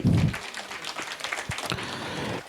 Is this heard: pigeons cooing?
no